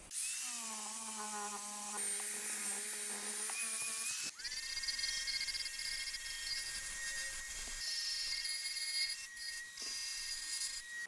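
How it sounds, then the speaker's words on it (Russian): Brushing sanded wood on a handmade storybook-style chest: a steady, high-pitched whirring hum that shifts pitch partway through and carries on as a continuous abrasive buzz, close and fairly loud, without speech. "теперь беру щетку и начинаю брошировать"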